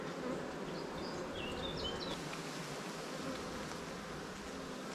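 Honeybees buzz steadily around an open hive during a June inspection, where drones are present. The dense, continuous hum stays close and even throughout, with no one talking.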